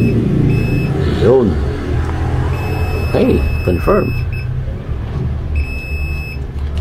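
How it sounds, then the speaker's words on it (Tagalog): A continuity tester buzzes while checking a drill charger (SB 51/5100) with a shorted diode, giving steady tones in three bursts with a pause between each, over a background hum as someone talks. "Pag buzzer, mga kaibigan, ibig sabihin ay may problema, shorted ang diode."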